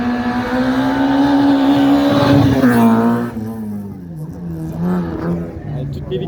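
A race car's engine and exhaust roar loudly at a hill climb course, a strong sustained tone that holds, sags slightly, then drops as the car pulls away, with voices mixed in.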